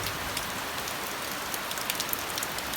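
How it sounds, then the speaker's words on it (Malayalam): Heavy rain pours down in a dense, even hiss of countless drops striking surfaces, steady and close, with a few slightly sharper patters over the constant wash. "അപ്പോൾ ഇവിടെ നല്ല മഴയാണ്"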